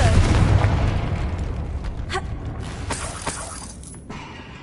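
A Confringo fire spell bursts in Hogwarts Legacy, a loud blast at the start with a shattering crackle that decays into scattered debris pops and clatters over several seconds.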